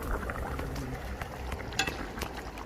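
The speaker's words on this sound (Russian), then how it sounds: "Кипит, да кипит наш зирбак." Zirbak base for Tajik lamb plov with lamb tail fat bubbling and sizzling in a pot, a continuous close churn with scattered sharp pops and crackles, and faint speech underneath.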